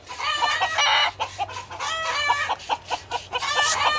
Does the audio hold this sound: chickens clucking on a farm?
yes